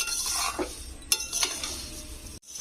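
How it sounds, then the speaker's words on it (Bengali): Puffed rice (muri) stirred and warmed in a pan over moderate heat for muri moa, a steady dry rustling scrape with a few sharper utensil knocks, close and continuous, no voices. "এখানে মুড়িটা গরম করে নেবে বেশি গ্যাসটা জোরে দিয়ে ভাজতে যাবে না"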